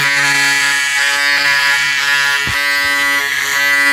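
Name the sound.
Braun Series 7 360 Flex electric shaver running while shaving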